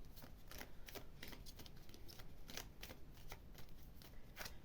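Tarot cards shuffled for a reading, a steady run of soft riffling flutters and papery taps, faint and close, with no voices.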